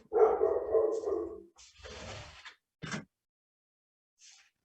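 A dog barks outside a few houses away, a loud first bark followed by a couple of shorter, weaker yaps and a faint final one, separated by silence.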